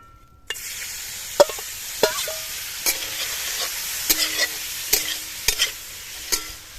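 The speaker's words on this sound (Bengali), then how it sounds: "বাটার গরম হয়ে গেছে, এবার চিকেন কিউব করা চিকেনগুলো এর মধ্যে দিয়ে দেবো" Chicken cubes fry in hot butter with a steady sizzle. Sharp clicks and scrapes of a stirring utensil against the pan break it up, close and clear, with no voices.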